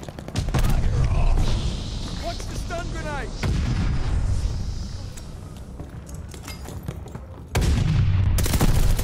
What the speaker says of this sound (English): Watch the stun grenade!